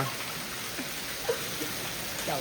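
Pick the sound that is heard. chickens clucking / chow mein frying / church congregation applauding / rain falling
rain falling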